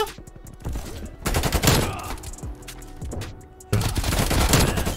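Shotgun fire and surrounding gunfire ring out in the video game Black Ops Cold War, a loud, dense burst of shots and crackling blasts, with a fresh surge of firing near the end.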